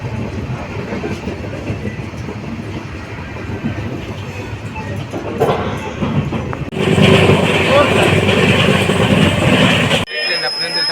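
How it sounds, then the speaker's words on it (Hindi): An Udhna–Jaynagar special passenger train rolls into Bhusawal junction, wheels clacking and rumbling steadily up close, growing louder inside the carriage before the noise abruptly drops away; people talk over it. "भुसावल जंक्शन में प्लेटफॉर्म नंबर 8 पर हमारी ट्रेन आकर के लग चुकी है"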